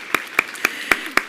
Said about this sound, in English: we're just going to keep the claps going